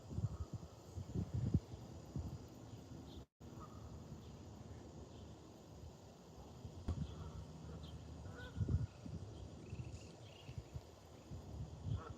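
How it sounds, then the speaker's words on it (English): Geese honk at a distance during bass fishing, faint calls scattered over a quiet outdoor background with occasional louder bursts. "Big geese."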